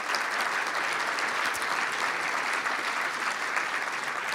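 Sustained audience applause fills the room at a Christian medical association event, a dense, steady patter of many hands clapping close by without letting up, with no talk over it.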